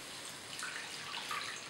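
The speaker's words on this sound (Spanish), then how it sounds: "Ahora le echa un poquito de agua." Water is poured into a frying pan holding garlic and oil, giving a faint, continuous hissing wash of sound with no voices.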